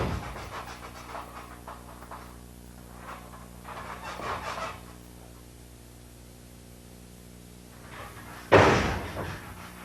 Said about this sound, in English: It's just a matter of popping the meaty part of your forearm against the width of his chest.